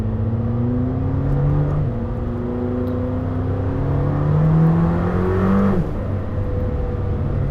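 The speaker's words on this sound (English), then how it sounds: "It's quite a gruff sounding engine." Lamborghini Temerario engine accelerating hard, with a loud, gruff, rising drone climbing through two gear pulls, a brief dip at each shift before it pulls again, close and alone.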